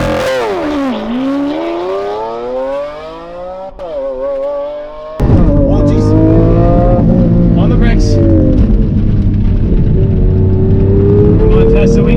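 A Lamborghini Aventador on a racetrack roars hard under acceleration, its pitch climbing through gears, then a louder, closer engine blast takes over. People talk and exclaim over the car.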